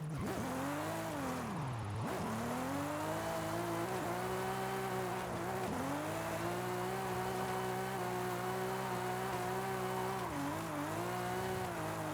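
98 Toyota Supra in Forza Horizon 5 driving a mountain road, its engine droning steadily with rising and falling revs and brief dips as it shifts and brakes, heard alone.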